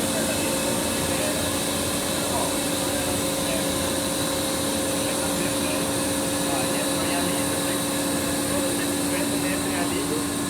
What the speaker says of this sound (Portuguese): Esse aqui é o compressor de parafuso, né? Ele mantém o fluxo da ar direto